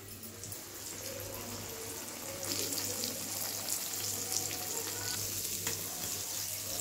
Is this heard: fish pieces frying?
yes